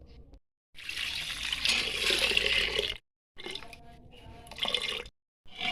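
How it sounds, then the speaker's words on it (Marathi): Cooking water drains off boiled lentils (dal) in a home kitchen: two bursts of pouring and splashing liquid, each a few seconds long, with short silent breaks between them. "आता ह्याच्यात एक ते दीड तांब्या पाणी काढून आपण येळवणे येळवणे काढून घेणार आहोत"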